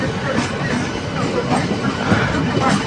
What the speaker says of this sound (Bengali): তো আমাদেরও ট্রেন ছেড়ে দিল।